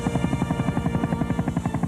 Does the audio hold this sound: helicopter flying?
yes